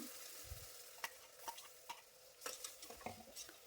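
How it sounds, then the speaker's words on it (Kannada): Ground ginger, garlic and green chilli paste frying in oil for mutton keema biryani, a quiet sizzle broken by repeated stirring scrapes and spoon knocks against the pot, close with no talking. "ಈಗ ಇದಕ್ಕೆ ರುಬ್ಬಿರುವಂಥ ಹಸಿಮೆಣಸಿನ್ಕಾಯಿ, ಶುಂಠಿ, ಬೆಳ್ಳುಳ್ಳಿ ಪೇಸ್ಟ್ನ ಹಾಕ್ಕೊಳ್ತೇನೆ."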